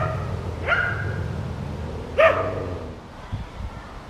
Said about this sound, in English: I see dogs barking, look at that.